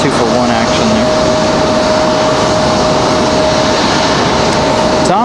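Airbus A340 jet at Raleigh-Durham International Airport: a loud, steady jet engine roar with a sustained whine, continuous for the whole stretch, with a voice faintly present beneath.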